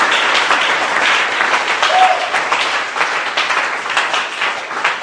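A church congregation bursts into loud, sustained applause and acclamation praising the Lord, a dense continuous wash of clapping from many hands filling the room.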